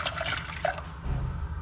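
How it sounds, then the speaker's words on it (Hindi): Ice-cold water poured into a pot of Kashmiri tea, a short splashing, dripping pour heard up close, briefly bright before settling into a lower liquid gurgle. "अब मैं इसके अंदर फिर से 3 कप बर्फ़ वाला पानी डालूँ,"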